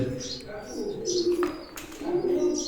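Teddy pigeons coo in soft, repeated low murmurs with a few faint chirps, close by, while someone talks over them.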